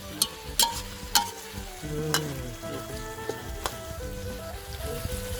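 Pork and holy basil stir-fry in plenty of oil over an outdoor charcoal stove in a garden, a busy close sizzle punctuated by several sharp metallic spatula clanks against the pan.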